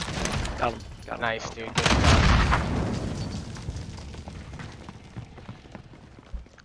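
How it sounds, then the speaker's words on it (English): A grenade goes off in a first-person shooter, a loud booming blast rolling out after bursts of gunfire, with a long decaying rumble while players talk over it. "Throwing grenade."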